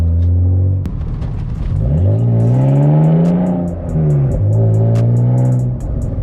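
A straight-piped BMW Z3M with an M3 engine drives close and loud, its exhaust droning and rising as the revs climb, dipping briefly between gears, then climbing again.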